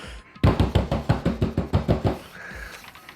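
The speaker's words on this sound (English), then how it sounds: "Kyoko's fingers glided across the keyboard" Rapid keyboard typing in Danganronpa, a steady run of about a dozen crisp, close keystroke clacks in even rhythm that stops abruptly, leaving faint background tone.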